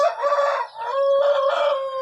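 A rooster crows loudly and close by, a single drawn-out call with a wavering, strained tone.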